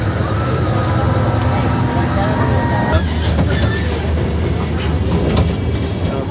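Darjeeling toy train pulling away from Batasia Loop and running on, a steady loud rumble of wheels and carriage noise with rising clatter after the start, voices talking faintly over it.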